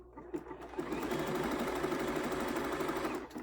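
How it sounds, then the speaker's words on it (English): A sewing machine stitches a quilt-as-you-go table runner at a longer stitch length, running in a steady rapid mechanical rhythm for a few seconds, close and clear. "I'm going to go to a little bit longer stitch length and stitch and see what I like."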